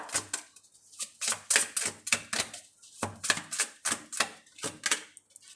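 Tarot cards are handled and drawn, making a quick run of crisp, close snapping and flicking clicks in uneven bursts with short pauses between them.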